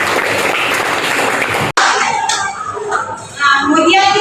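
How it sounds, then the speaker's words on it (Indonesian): Classroom applause for a student during a maths lesson: a dense burst of many hands clapping together for under two seconds, cut off abruptly, then a teacher talking over a quieter room. "tepuk tangan untuk Hengki"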